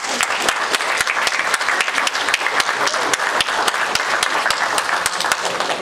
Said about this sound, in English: Let's get a nice round of applause.